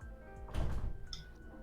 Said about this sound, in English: That was a door.